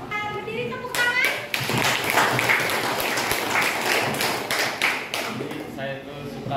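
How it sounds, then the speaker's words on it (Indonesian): Children clapping in an Indonesian classroom, a burst of uneven hand claps and taps starting after a voice, continuing for several seconds with some chatter underneath. "Ayo, berdiri, tepuk tangan."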